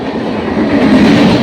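A high-speed express train, diesel or electric, runs non-stop through an Indian railway station, its steady rumble and rolling wagon noise loud and close throughout, with no talk.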